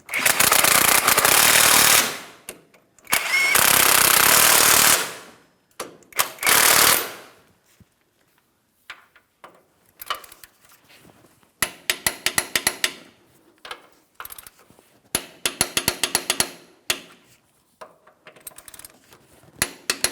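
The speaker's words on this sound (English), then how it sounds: "we can continue on with snugging all three of our mounting bolts" Bursts of a power impact tool hammering, then rapid ratchet clicks, as the three Pitman arm mounting bolts are snugged on a 2007-2014 GMC Sierra 2500 HD, loud and close with short gaps.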